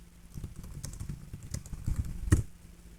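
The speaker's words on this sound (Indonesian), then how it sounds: "Anda mengetik bisa cepat seperti ini." Fast ten-finger touch typing on a computer keyboard produces a quick, uneven patter of soft key clicks close up, with a heavier thump near the end.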